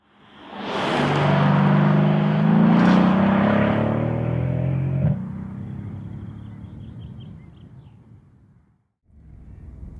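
A 2015 Mercedes-Benz SL63 AMG 2LOOK Edition (R231) revs hard while driving, giving a loud, deep engine roar that swells and then gradually subsides into quieter cruising.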